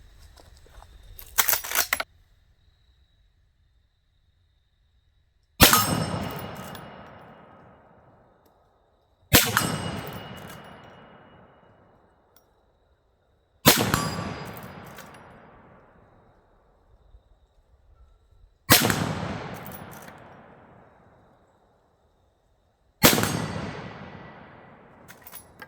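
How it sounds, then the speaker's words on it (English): A Henry steel lever-action side-load rifle in 360 Buckhammer fires five loud separate shots at steel targets, each a sharp crack with a ringing decay, spaced several seconds apart, after a short burst of clatter. "Let's do some more shooting."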